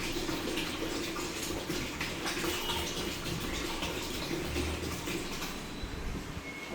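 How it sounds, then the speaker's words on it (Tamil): Water poured into a large batch of homemade sarbath made with milk, a steady close splashing gush that runs continuously and eases slightly near the end. "வந்து வாட்டரும் போட போகிறோம்."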